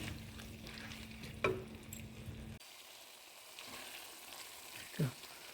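Pumpkin curry being stirred in a pan, a soft steady sizzle with two brief sharp scrapes of the spoon against the pan.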